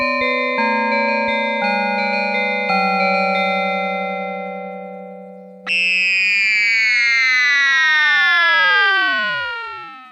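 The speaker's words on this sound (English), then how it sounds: "Of course there are the traditional inharmonic applications such as bells and Doctor Who sweeps." Ensoniq ESQ-1/SQ-80 synthesizer using amplitude modulation: a series of stepped inharmonic bell tones ringing in sequence, then a loud sweeping Doctor Who-style tone with many partials gliding and fanning out before fading.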